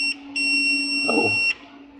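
A Fluke 83 multimeter's continuity buzzer sounds as a steady, fairly loud electronic tone lasting a little over a second, with a brief rustle of the probes near its end.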